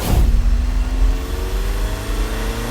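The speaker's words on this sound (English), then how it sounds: "I can literally hear my cold air intake sucking in air" A 9th-generation Honda Civic Si revving while driving, its cold air intake whooshing under a rising engine tone, close and fairly loud.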